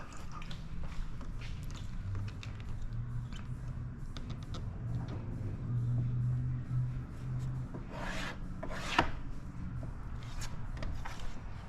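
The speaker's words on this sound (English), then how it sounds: "let's go ahead and squeegee" A squeegee is worked across paint protection film on a 2025 Ford Explorer ST bumper, producing soft rubbing and squishy squeaks in short strokes, with a few sharper swipes toward the end.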